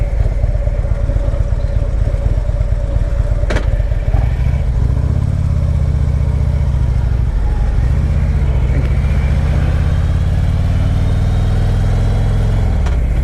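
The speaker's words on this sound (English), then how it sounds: "get that truck out of the way" A truck engine rumbles nearby as it pulls away through a riverside subdivision, a steady low drone with a brief clatter early on, then revving and fading slightly as it moves off.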